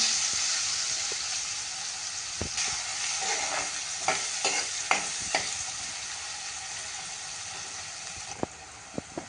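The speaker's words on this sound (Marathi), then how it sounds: "आता हा कांदा घालूया त्याच्यावरती" Chopped onion frying in oil over fried garlic, stirred with a steady hiss and sizzle, with scraping spoon strokes clustered in the middle, close and fairly loud, alone without talk.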